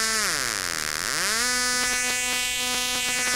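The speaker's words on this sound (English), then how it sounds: "you get real crazy singing sounds and stuff" A buzzy synthesized tone sweeps down and back up in pitch, then settles into a rapid pulsing drone with a rich, vocal-like harmonic quality.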